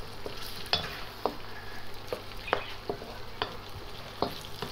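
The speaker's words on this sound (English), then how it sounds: "I'm going to fry this onion in this ghee until it turns nice and golden" Sliced large onion frying in ghee toward golden brown, a steady quiet sizzle punctuated by regular spatula taps and scrapes against the pan, close by with no voices.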